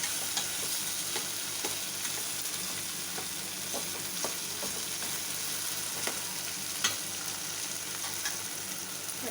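Sago pearls for javvarisi upma sauté in a pan, a faint, steady sizzle with occasional light stirring clicks.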